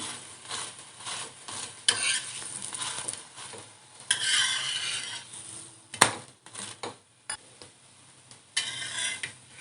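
A bottle gourd paratha fries in oil on a pan with soft, steady sizzling, broken by scraping and sharp clinks of a utensil against the pan.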